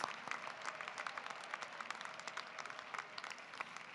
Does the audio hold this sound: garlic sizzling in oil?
no